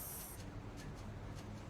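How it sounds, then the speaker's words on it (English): An acid spray sound effect opens with a bright, hissing jet that cuts off sharply, followed by a few fainter sputtering bursts over low background rumble. "I think I'm going to use the acid spray and I'm going to turn it down."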